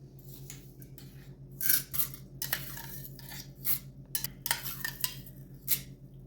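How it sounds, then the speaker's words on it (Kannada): Soaked green gram is added to a pressure cooker, with scattered soft clinks and scraping of a metal vessel and spoon, faint and close, in irregular short bursts without talk. "ಮೊದಲಿಗೆ ಕುಕ್ಕರ್ಗೆ ನಾವು ನೆನೆಸಿಟ್ಟಿರೋಂತಹ ಹೆಸರು ಕಾಳನ್ನು ಹಾಕ್ಕೋಬೇಕು"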